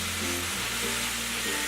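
Food cooking in a pan gives a steady, even sizzle that carries on without a break, with a low hum running underneath and no talking.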